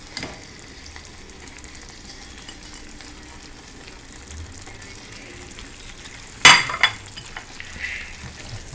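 Butter and chopped basil stirred into spaghetti with tomato sauce in a pan, a low steady frying hiss with soft stirring and one sharp clatter of utensil on pan near the end, close, no speech.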